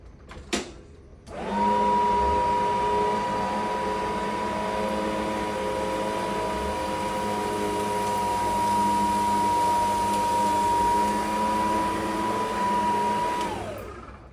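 A cordless vacuum cleaner with a metal brush roll deep-cleans a rug. It starts with a click, then holds a loud, steady motor whine with a high tonal hum for about twelve seconds before switching off, with no voices.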